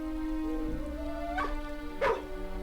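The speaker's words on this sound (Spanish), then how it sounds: "Los animales entrenados se comunican a través de diferentes ladridos." A trained search and rescue dog at a collapsing farm elevator gives a short whining, yipping bark sequence, fairly close, over a steady low hum of background machinery.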